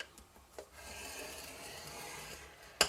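Scoring cardstock for a handmade lollipop thank-you gift: a faint, continuous dry scrape drawn across the paper for about two seconds, followed by a sharp click at the end.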